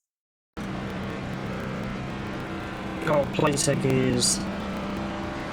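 Race cars from the NASCAR 25 video game at Darlington drone steadily in a continuous engine roar, with a louder surge of a car passing close near the end, while a commentator talks over it.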